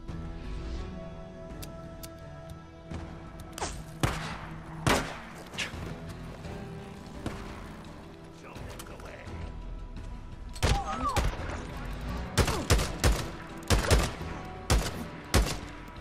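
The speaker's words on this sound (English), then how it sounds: "Sniper rifle time." Sniper rifle shots in Days Gone, a series of loud, sharp single cracks spaced a second or more apart, growing more frequent toward the end over a low background of game ambience.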